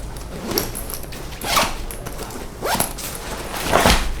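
A 40-liter REI backpacking backpack is unzipped and opened all the way like a duffel, giving four separate rasping zipper pulls spaced about a second apart, close and fairly quiet with no talk.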